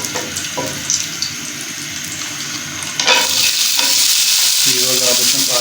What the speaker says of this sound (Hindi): तो इसी में भी बस हमने किशमिश को फ्राई कर देना है।